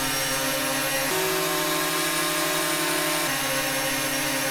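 A DJI Mavic Mini drone fitted with Master Airscrew stealth propellers hovers close by, a loud continuous buzzing whine whose pitch drops for a couple of seconds in the middle and then rises again.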